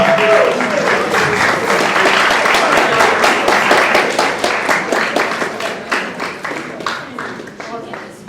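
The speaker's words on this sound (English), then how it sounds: "Please give a round of applause to Belinda." A debate society audience applauds a speaker at an awards event, with dense, steady clapping that stays loud before slowly thinning and fading toward the end.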